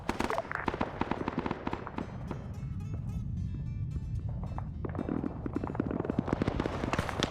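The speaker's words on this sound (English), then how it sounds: "Start popping grenades." Rapid bursts of explosions and gunfire crackle through a military video game, dense popping blasts over a rumbling battle background, with faint voice chatter.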